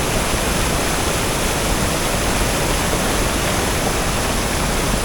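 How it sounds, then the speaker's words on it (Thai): Loud, dense roar of a waterfall stream cascading down rock tiers from the forest at Bamboo Creek, Thong Pha Phum, continuous and close with no speech. "น้ำไหลไปจากป่า หัวเป็นชั้นๆ เป็นมอ งๆแบบนี้ เป็นชั้นๆไหลลงมาแบบนี้เลยนะครับ"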